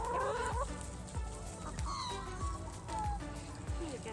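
Chickens clucking and squawking softly amid background music and a busy mix of sounds on a small Australian farm in winter, the bird calls faint and intermittent.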